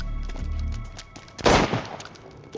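A single loud burst of revolver fire from an old revolver in the shooter game Chernobylite 2, standing out sharply over low background noise and followed by a short decaying tail.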